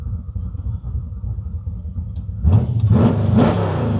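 A 1969 Chevy Camaro restomod with an 8.2-liter, 640-horsepower V8 cranks and fires up, a low idle rumble bursting into a loud, deep rev partway through and holding a heavy growl, close by.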